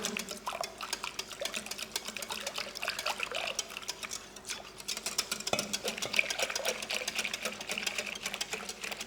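Spoon stirring plant-based milk into cooked quinoa in a pan for a quinoa apple bake, a steady run of soft wet scraping and clinking strokes heard up close with no talk.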